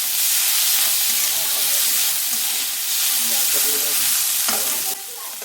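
Chopped onion frying with ginger paste in a pan, a loud, steady broadband sizzle with scraping stir strokes throughout, dropping slightly near the end.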